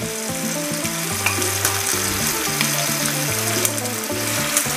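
Dandelion greens stir-fried with pork belly, butter and onion sizzle loudly and steadily in the pan, with occasional stirring scrapes and a melodic music track playing underneath.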